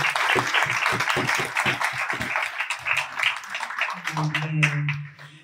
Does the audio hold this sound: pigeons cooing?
no